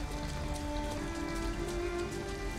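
Rain falling at night in the video game Detroit: Become Human, a constant steady patter of drops on surfaces with an even wash of noise and a faint tonal hum beneath, no voices.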